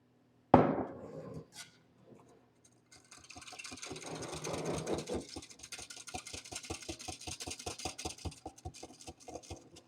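Pudding mix for an old-fashioned Southern lemon lush pie is stirred or whisked in a bowl. After a brief knock, quick regular close-up strokes build to a steady, rapid rhythm that lasts for several seconds.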